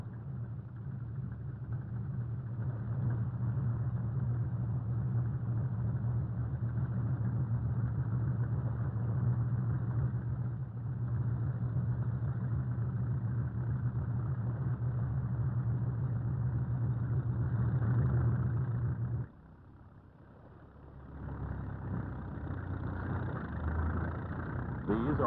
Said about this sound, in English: Then the trucks move away to dump their loads into steel sleds.